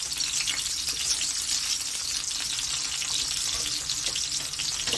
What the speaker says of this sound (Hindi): अब मैंने इसमें प्याज घेर दी है